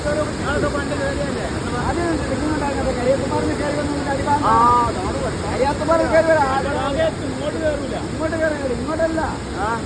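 Urukkuzhi waterfall sends out a steady, broad rushing roar that fills the whole stretch, with several people talking over it.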